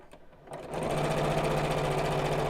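A sewing machine starts up and runs steadily, stitching a biscornu pouch at a home sewing table with a fast, even mechanical whir, close and clear with no talking.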